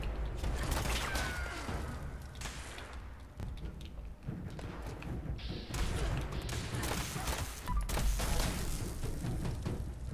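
Circuit Breaker gun firing in Fallout 76, a run of sharp shots and thuds over dense mechanical game noise, with a brief lull mid-clip before the loud, busy shooting resumes.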